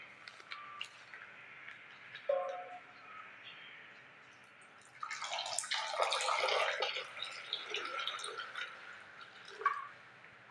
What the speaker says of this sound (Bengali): এটাকে আমি জল দিয়ে ভিজিয়ে দেব কিছুক্ষণের জন্য।